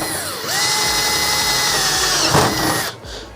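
A power drill bores holes through PVC pipe for an aquarium heater cover, a loud whining hum rising in pitch as the bit spins up, running steadily before cutting off near the end.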